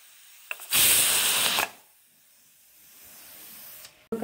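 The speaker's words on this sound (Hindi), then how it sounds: "गाइज अब हमारा कुकर का एक विसल बच चुका है" A pressure cooker whistle releases a loud burst of hissing steam for about a second, then fades to a quiet background hiss.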